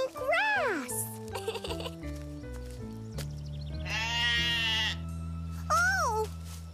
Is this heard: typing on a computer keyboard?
no